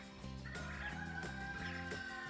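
Chicks in a portable chicken coop, fewer than thirty of them, with continuous close, high chirping and peeping that is fairly loud and alone, with no talk over it.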